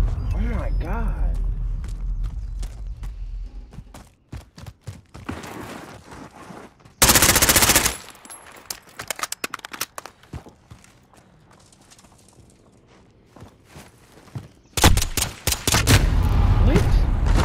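Gunfire from a gun in Call of Duty: Modern Warfare comes in loud dense bursts between stretches of game clatter and footsteps, with players talking throughout.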